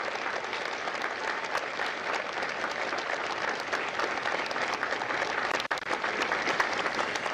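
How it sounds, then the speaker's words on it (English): Sustained audience applause for Marines at a Fox Company recruit graduation at MCRD San Diego, a dense, even wash of many hands clapping at steady volume with one brief thump near the end. "Ladies and gentlemen, a round of applause for their dedicated service to Corps and country"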